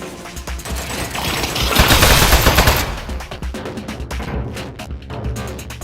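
Rapid turret gunfire from the video game Desk Job: dense, loud bursts of shots that peak in the middle, then break into scattered, sharper cracks toward the end.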